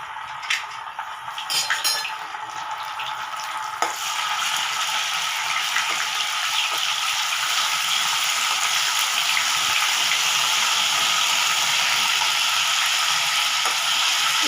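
Ginger garlic paste hits hot oil in a pan with a few clinks and scrapes, then settles into a loud, continuous close sizzle and crackle of frying with no talk.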